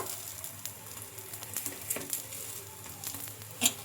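Rumali paratha cooking on a hot pan gives a faint, steady sizzle, with soft crackles and pops scattered through it and a sharper spit near the end, heard alone with no voices.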